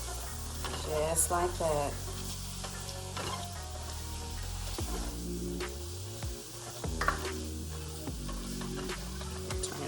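Beef pepper steak stir fry with cornstarch simmering and sizzling steadily in a pan, with a spoon stirring and scraping now and then, under music and brief talk.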